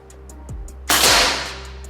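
A single sharp report from a Ghost Warrior PCP semi-automatic air rifle firing a Barracuda Match pellet, a loud close crack with a brief hissing decay, preceded by a faint mechanical click.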